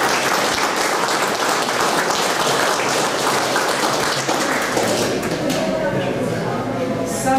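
An audience in a hall gives sustained, dense applause for a missionary visiting from Australia, steady and loud throughout with a few scattered voices beneath.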